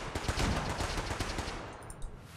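Gunfire in the video game Fallout 4, rapid bursts of automatic shots rattling loudly in quick succession, then easing off toward the end.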